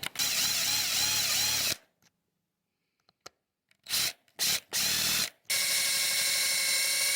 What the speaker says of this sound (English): I used a bigger drill bit to kind of keep it center